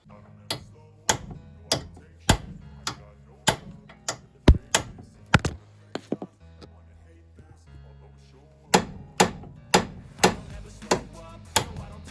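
Sharp metallic hammer blows strike a stuck, corroded car suspension part repeatedly, loud and close, in uneven bursts with pauses between, the ringing clanks echoing briefly after each hit.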